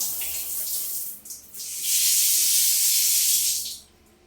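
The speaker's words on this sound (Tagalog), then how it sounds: "Pwede na maligo ng shower." A newly installed bathroom shower sprays water, a loud steady hiss that briefly dips, then swells and runs evenly for about two seconds before cutting off.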